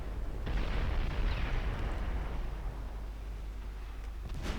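Heavy cruiser naval gunfire in the warship strategy game Ultimate Admiral Dreadnoughts makes a deep, rumbling boom that swells and lingers as a low, continuous roar, with a faint crack near the end.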